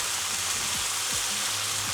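Mushrooms and chicken frying in a pan, giving a steady, even sizzle with soft crackle throughout, close and moderately loud, with no voices over it.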